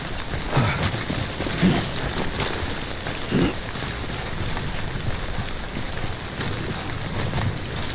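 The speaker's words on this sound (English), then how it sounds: "Don't stay out in the rain any longer than you have to." Steady rain, the timefall of the video game Death Stranding, patters continuously outdoors with a soft wind-like hiss and a few faint low thumps, moderately loud and unbroken, with no voices.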